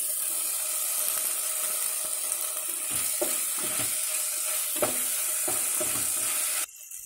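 Tomato goes into ginger-garlic paste frying with turmeric in a pan, a steady bright sizzle with scattered stirring scrapes, cut short by a sudden drop at the end.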